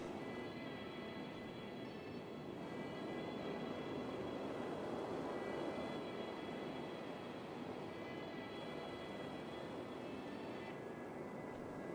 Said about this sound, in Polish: Zobaczcie, czy tą droną mogę polecić cosik.